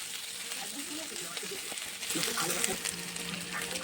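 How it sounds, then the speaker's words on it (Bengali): Soybean chunks frying in a pan, a steady hiss and crackle that grows louder partway through, close up, with someone speaking over the sizzle. "তো চলো এটা একটু ভাজার জন্য দিই, হালকা যাতে গন্ধটা চলে যায়"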